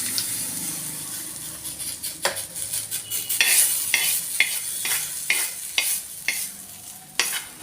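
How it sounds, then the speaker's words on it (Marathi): Cumin seeds crackle and sizzle in hot oil, tempering a chutney for a fasting paratha, with sharp pops and stirring scrapes recurring every half second or so against a steady frying hiss, close by and with no talk. "हे बघा असं याच्यात जिरं टाकलं, जिरं तडतडलं का लगेच याच्यात टाकून दिलं।"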